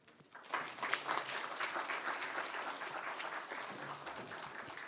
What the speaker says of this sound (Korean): 오늘도 귀한 말씀 전해주실 우리 목사님 박수로 말씀을 청해 듣겠습니다